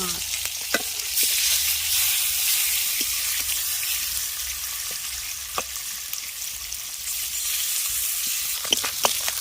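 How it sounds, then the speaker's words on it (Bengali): Whole spices for a fish curry tempering fry in hot oil, giving a bright, steady hiss and sizzle with occasional sharp pops and faint utensil clicks, close by, without voices. "এবার ফোড়নটাকে আগে একটু ভেজে নিলাম"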